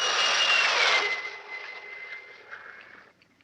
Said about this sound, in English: even to the piercing eye of radar and the speeding jet fighters